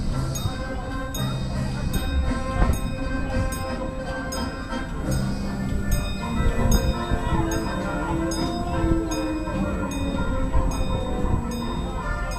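Busch Gardens Railway red train ride heading toward Caribou Station, with steady rumbling car noise, clinks and a faint bell under a continuous mechanical drone, close and moderately loud throughout.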